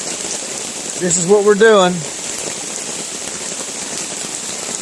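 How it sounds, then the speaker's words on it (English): Rain falls steadily at an ATV park campsite at Chadwick, a constant close hiss of drops on surfaces, with someone briefly talking over it. "it's raining worse now than it was earlier"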